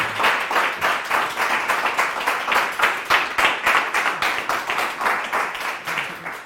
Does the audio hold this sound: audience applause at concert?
yes